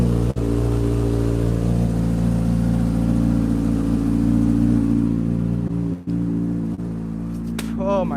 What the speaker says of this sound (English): We gotta rev her up a little bit for y'all. Let her drop down on idle.